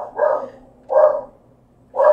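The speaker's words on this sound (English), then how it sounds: "Sorry about the dog." A dog barks three times indoors, each bark loud, close and short, spaced about a second apart, with near silence between them.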